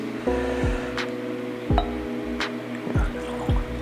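Russell's Reserve bourbon pours from the bottle into a glass, giving a series of wet glugs and splashes at an even pace, with no voice over them.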